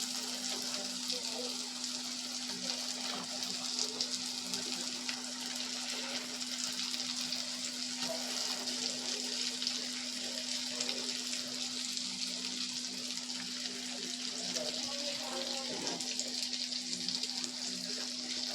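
Rohu fish pieces sizzle in hot oil in a pan after frying with ginger, a faint, steady crackling hiss running throughout with a constant hum beneath and no speech.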